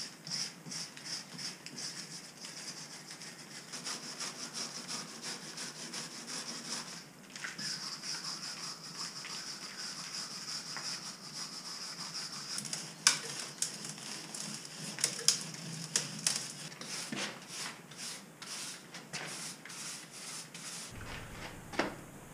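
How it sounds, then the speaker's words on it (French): Lime mortar wall joints between stones being scraped and cleaned by hand: faint, continuous scratching and patter with scattered small ticks and sharper scrapes, close and steady throughout. "Donc je vais gratter et récupérer les jolis joints, les pierres"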